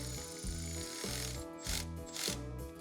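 A ratchet wrench tightening the wheel light bracket on a DMAX golf cart, with steady rapid pawl clicking in about five back-and-forth strokes, loud and close with no talking.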